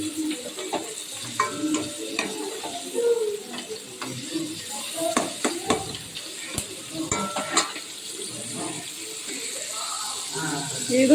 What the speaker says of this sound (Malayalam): മീൻ വറുത്തു മൂത്ത് തിരിച്ചിട്ടു